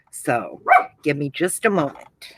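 A little chihuahua barks in short yips to be let outside, the sharp calls alternating with and overlapping a nearby woman's speech.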